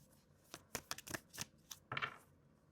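Tarot cards are shuffled by hand in quick, crisp riffling bursts, quiet and close, with no voices.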